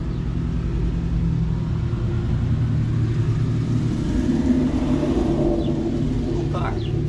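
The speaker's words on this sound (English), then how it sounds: "Someone's driving past, making more noise than I." A car drives past on the road beside a quiet 2025 Honda Dax 125 motorbike, a loud, steady engine rumble close by that swells slightly and fades, while someone talks over it.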